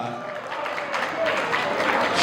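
Audience applause, a brief burst of clapping from a crowd rising slightly toward the end, with a voice speaking over it.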